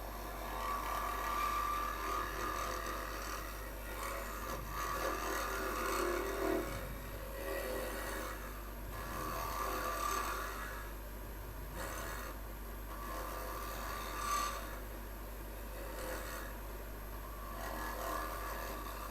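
Wood being hollowed on a lathe during live woodturning, giving a soft continuous scraping and rubbing with uneven swells, fairly faint over a steady low motor hum.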